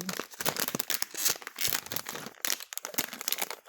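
A plastic blind bag packet holding a Lego Movie 2 minifigure is cut open with tiny scissors, giving close, loud bursts of crinkling and tearing plastic in an irregular rapid series, with no speech.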